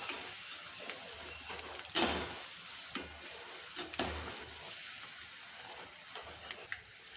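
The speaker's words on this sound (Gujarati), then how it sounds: "તો ફાઇનલી બધાય આપણા સિંગ ભજીયા તળાઈ અને તૈયાર થઈ ગયા છે." Peanut fritters (sing bhajiya) frying in hot oil, a faint continuous sizzle and crackle with occasional louder spoon or utensil clicks against the pan; no talking.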